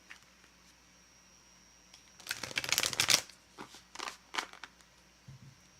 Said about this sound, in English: I'm going to pull cards for both of you.